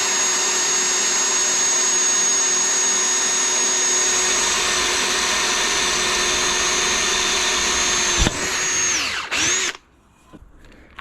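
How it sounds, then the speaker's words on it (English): A power drill bores a hole into a wheel for a double beadlock install, a loud, steady high whine running for about eight seconds before the bit winds down and stops, with a few short bursts after. "I'm gonna go ahead and try and drill this as perpendicular as I can"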